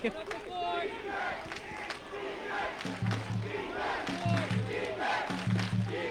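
A football crowd at a Kennedy versus Highland Park high school game cheers and roars in a steady, moderately distant swell that lifts toward the end, with scattered shouts and talk mixed through it.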